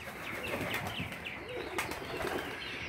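Pigeons in a home loft, mixing soft cooing, rustling and wing flaps at close range, a steady busy murmur of birds with brief flutters and no voices.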